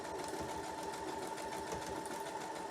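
Sewing machine running continuously at a steady hum while stitching a seam on a clamshell quilt block, close and even with no pauses or talk.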